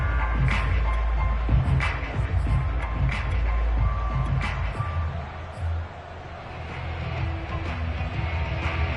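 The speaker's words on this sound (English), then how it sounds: "Crowd getting in it a bit already." Stadium crowd at a football game, a dense, steady roar of many voices with heavy low rumble, loud and constant, easing slightly toward the end, with no words audible in it.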